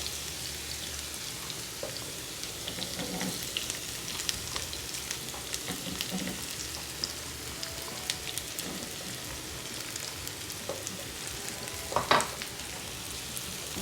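Sliced onion frying in coconut oil until crisp, a constant soft bubbling sizzle dotted with small pops and crackles, close and unaccompanied by voices.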